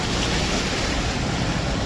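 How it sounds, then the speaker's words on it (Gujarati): Heavy summer downpour on a city street in Gujarat, a dense, unbroken hiss of rain pouring down and splashing close by, steady and loud throughout with no voices. "જોરદાર વરસાદ છે ભાઈ"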